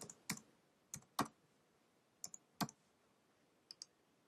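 Scattered keystrokes on a computer keyboard, a handful of quiet, sharp clicks in irregular bursts with short pauses between them, close and isolated in a silent room.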